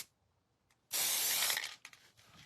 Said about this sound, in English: Now, I've got this spray paint.